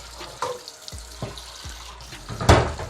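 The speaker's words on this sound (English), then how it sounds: "so you have to run it under cold water to stop it from cooking" Cold tap water runs into a sink over cooked native pasta, a steady wash broken by a few soft splashes and a louder gush near the end.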